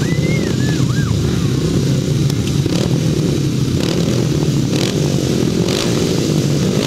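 Grasstrack racing motorcycles at a British Masters qualifier meeting roar loudly together in a race, a dense, continuous engine snarl with rising revs and passing bikes.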